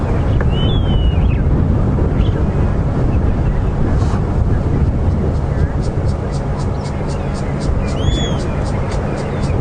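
Steady wind blowing at Buffelshoek Dam in the Djuma Game Reserve at dusk, a loud continuous rush buffeting the microphone throughout, with faint bird calls and chirps far off in the background.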